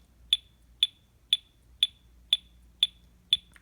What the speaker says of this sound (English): So we just have the high pitch starting beat.